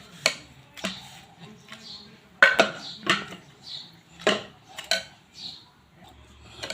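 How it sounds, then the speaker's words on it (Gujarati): A metal spoon mashes a spiced chickpea mixture in a pot, producing a series of irregular clinks and knocks against the pot, roughly one every half second, close and moderately loud. "હવે આપણે આને આવી રીતના ચમચાથી મસ્ત મજાના દબાઈ લેવાના છે"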